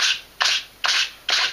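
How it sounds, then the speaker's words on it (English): A sanding block rubbed gently along a wooden edge, four short, even rasping strokes in a steady rhythm, close and clear with nothing else heard. "just run a sanding block very gently over that edge"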